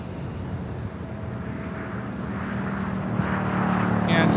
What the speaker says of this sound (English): I think they have finished loading bags on that A380.